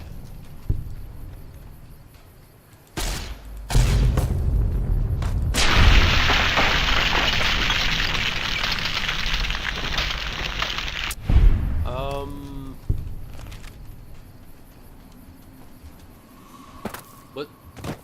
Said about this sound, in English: Was there a giant explosion that just happened?